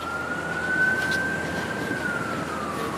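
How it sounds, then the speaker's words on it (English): A single emergency siren wails steadily at a distance, slowly rising and falling in pitch over a constant hum of street traffic in downtown Toronto. "And I hear sirens."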